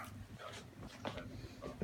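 Cockalier puppies make faint, high squeaks and whimpers, a few short cries scattered over a quiet, noisy background.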